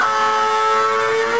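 A short electric guitar fill from a song's verse, with bright, sustained bent notes ringing steadily over a thick distorted tone, no voices.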